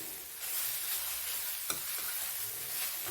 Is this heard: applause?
no